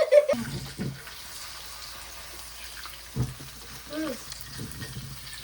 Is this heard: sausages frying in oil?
yes